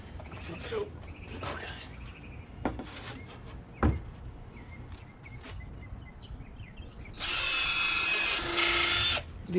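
A power drill drives 2-inch screws into birdhouse wood, a sustained high whine of the motor near the end after scattered knocks and handling clatter, with a voice speaking briefly.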